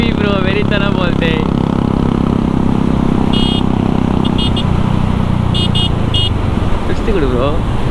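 A Royal Enfield Bullet ridden hard on a group ride thumps loudly and continuously with road rumble and wind, a few short horn toots and voices talking over it.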